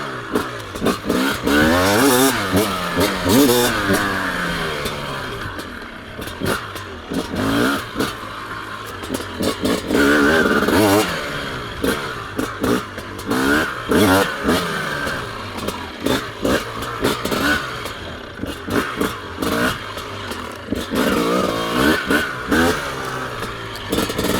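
A 2025 TM 300 two-stroke motorcycle is ridden off-road, its engine revving and dropping repeatedly in sharp bursts with crackling exhaust, loud and close throughout with wind noise.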